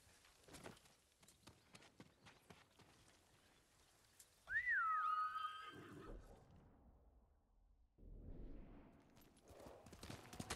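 Hoofbeats of a horse ridden at a gallop in the game Ghost of Tsushima, steady clip-clop throughout with a whinny and whistling swell near the middle, then fading and resuming.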